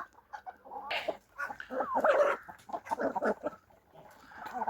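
Araucana chickens clucking and calling as they move about among branches in a yard, a busy run of close, overlapping bird sounds with no talk.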